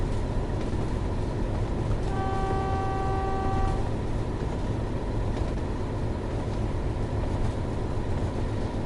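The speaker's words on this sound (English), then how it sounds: "Sound of a whistle." A BR Class 31 diesel locomotive in Train Sim World 2 sounds one steady whistle blast of nearly two seconds over a constant, loud engine and rail rumble, with no talk.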